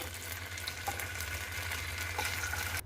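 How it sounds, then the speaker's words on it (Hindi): Pieces of arbi (taro root) frying in hot oil, giving a steady, close bubbling sizzle with faint crackles throughout, no talking. "उसी तरीके से हम सारे अरबी फ्राई कर लेंगे।"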